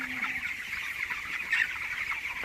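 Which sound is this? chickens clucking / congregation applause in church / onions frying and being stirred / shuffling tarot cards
chickens clucking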